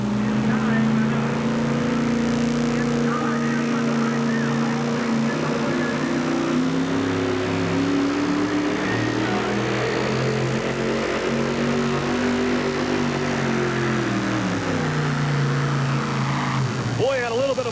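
A Ford 4WD pulling truck at the 1991 NTPA Rock Springs pull roars down the track, its engine note sustained and loud, swelling and sagging in pitch as it works, while a commentator talks over it.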